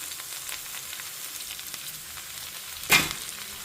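Onions frying in a pan sizzle steadily as pieces of small, tender cabbage are tossed in for a cabbage, ginger and green chilli curry, with a sharp burst of sizzle near the end.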